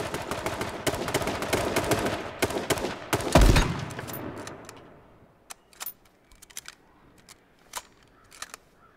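Gunfire in the battle royale game H1Z1: a dense barrage of rapid shots fills the first few seconds, peaks in a heavy blast, then fades into scattered single cracks and clicks spaced irregularly.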